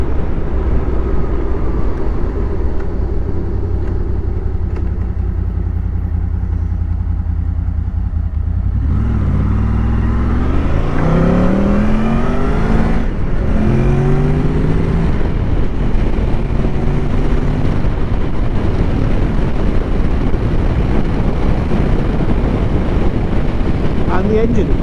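Motorcycle engine with standard exhaust cans revving during a ride, rising and falling engine tones mixed with heavy wind roar, loud and constant, with a gear change partway through.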